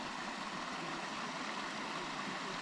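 Steady rushing water from a small waterfall pours into a mountain-fed creek in Walhalla, Victoria, Australia, a continuous close hiss with no voices.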